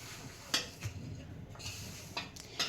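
Badusha dough being mixed with a little baking powder by hand in a bowl, giving soft irregular clatter and a few sharp knocks of utensil against the vessel, close and quiet with no talking.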